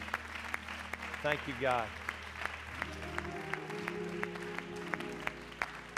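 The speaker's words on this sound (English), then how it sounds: "Would you give the Lord a hand clap of thanks tonight?" A church congregation claps hands in thanks to the Lord during an evening service, a steady patter of clapping under a voice speaking and sweeping in pitch.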